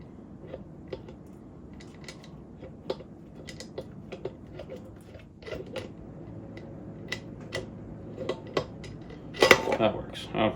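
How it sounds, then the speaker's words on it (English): Metallic clinks, ticks and rattles of an oil pump chain being worked off its sprocket on an OM606 engine during a rear sump conversion, with intermittent tool and part knocks growing louder near the end. "Walk the chain off, lay it to the side."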